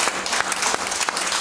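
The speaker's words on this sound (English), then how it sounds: "Give the Lord a hand clap this morning" A church congregation claps together during a praise moment, a brief burst of brisk, fairly loud, roughly rhythmic hand claps close by.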